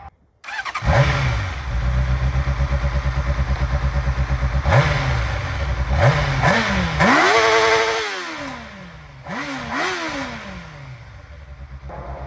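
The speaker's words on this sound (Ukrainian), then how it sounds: "На заводській вихлопній він дуже гарно звучить" A stock-exhaust Honda CB600F motorcycle engine starts and idles with a throbbing putter, then is blipped through several sharp revs that rise and fall, recorded up close.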